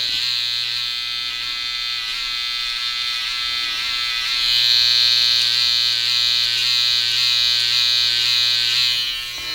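Cheap electric hair clippers buzz loud and steady at close range for the whole stretch, with a steady hum and a slight swell partway through as the blades work through hair. No one speaks.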